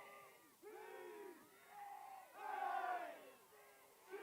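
CSU Pueblo fans in their cheering section at the 2021 RMAC women's soccer championship raise vocal shouts and cheers in several surging waves, sounding distant and faint.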